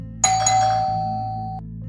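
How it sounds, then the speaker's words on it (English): A doorbell chimes once in a two-tone ding-dong inside a quiet home, the second tone ringing out and fading over about a second, alone with no voices. "I pressed the doorbell."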